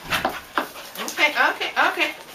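A pit bull puppy whimpers and yips in short, high bursts, close and fairly loud, with a voice talking over it.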